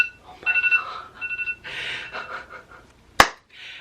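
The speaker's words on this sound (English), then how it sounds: "it's so funny that that alarm just came on" A phone alarm goes off nearby with repeating electronic beep bursts in short groups, followed by a sharp clap-like smack and a breathy voice, fairly loud and close.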